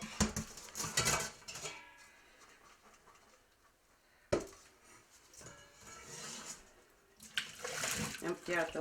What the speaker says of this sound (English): Empty out the water.